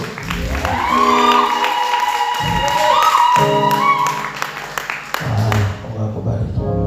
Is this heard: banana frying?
no